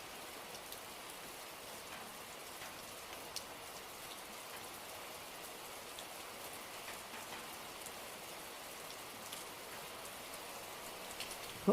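Heavy monsoon rain falling steadily at a hillside resort in Matheran, a dense, even hiss of drops on surfaces throughout, fairly faint and distant, with no voices.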